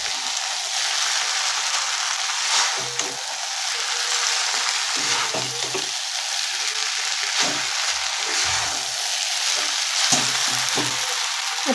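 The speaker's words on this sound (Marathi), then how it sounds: "नूडल्स घातले की फटाफट हलवायचं आहे." Noodles for veg chow mein stir-fried quickly in a hot pan, a loud steady sizzle with repeated scraping and tossing of a utensil, close and without talk.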